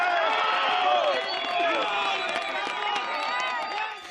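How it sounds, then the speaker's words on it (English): Crowd of onlookers at an earthquake rescue site applauds and cheers as a woman trapped for a day and a half is pulled free, a steady dense roar of clapping and voices with whoops rising over it, easing slightly at the end. "Applause rang out today after rescue teams retrieved one woman who had been trapped for a day and a half."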